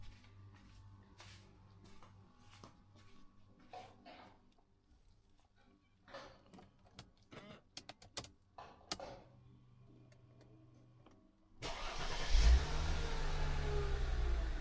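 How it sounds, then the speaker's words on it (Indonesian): A Mercedes W203 engine cranks and fires up after a stretch of quiet clicks and handling noises, then settles into a loud, steady idle close by. "Ya, mesinnya nyala."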